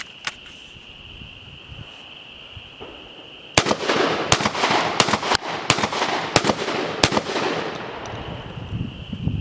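Mossberg 940 Pro Tactical SPX semi-automatic shotgun fired outdoors in a quick string of about seven loud, sharp blasts at close range, each followed by a short echo, while insects buzz steadily in the background.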